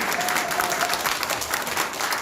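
Party members at a Democratic Party local committee election rally in Yangcheon, Seoul, applaud steadily at the start of the event, with dense, sustained clapping from a sizable indoor crowd for about two seconds.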